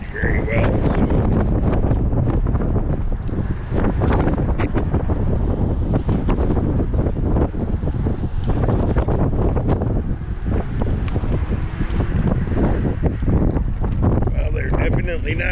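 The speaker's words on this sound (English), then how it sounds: "Windy, that's for sure. Very windy." Strong wind buffets the microphone on a fishing bridge over open water along the Overseas Highway, roaring loudly and continuously in gusts, with faint water and a voice now and then underneath.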